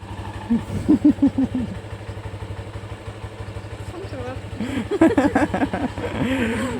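Geon Pantera motorcycle engine running after starting, a steady close idle with a throbbing pulse, while people speak excitedly over it.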